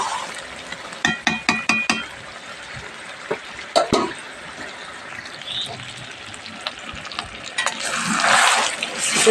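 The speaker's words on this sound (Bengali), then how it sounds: "এবার ঢাকা খুলে এটাকে ভালোভাবে আমি কষাতে থাকবো" Duck meat being stirred and sautéed uncovered in a pan for a red bhuna curry: a spoon clinks and scrapes against the metal in quick bursts over a steady background sizzle that swells toward the end.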